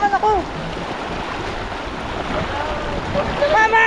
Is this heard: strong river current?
yes